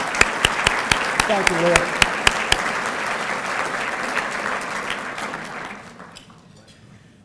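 Audience applause at a community foundation annual luncheon, a sustained round of clapping with sharp individual claps on top, fading out toward the end while someone speaks briefly.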